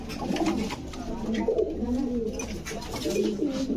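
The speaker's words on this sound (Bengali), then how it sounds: "এই যে এক জোড়া কবুতর দিলাম" A pair of Giribaj pigeons coo close by, their soft, rolling calls repeating in a steady rhythm over a low background hum.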